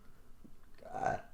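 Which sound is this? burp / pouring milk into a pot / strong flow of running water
burp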